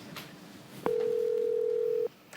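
A phone line emits one steady electronic tone lasting about a second as a call is placed, after a soft click, against quiet room background.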